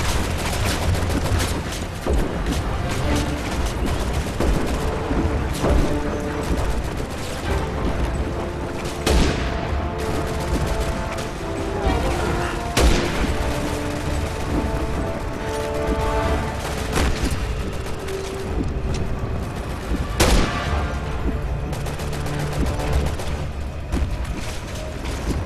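Dense, continuous gunfire and booming blasts in Resident Evil 6's Chris campaign, rattling loudly through the whole stretch with sharp louder shots standing out now and then.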